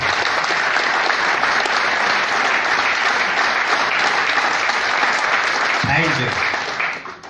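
Audience in Delhi clapping at a business talk, sustained, even applause from a sizeable crowd that fades out in the final second while a voice briefly speaks over it.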